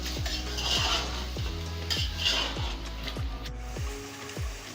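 About 1.5 kg of beef sizzles as it fries in a pot for nihari, while a spoon scrapes through it in steady, regular strokes roughly twice a second over a constant frying hiss.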